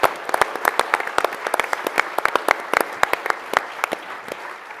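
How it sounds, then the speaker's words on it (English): A small audience at a leadership discussion event gives a round of applause, with distinct, fairly close individual claps forming an uneven patter rather than a dense roar. "I think we all ought to give them a round of applause"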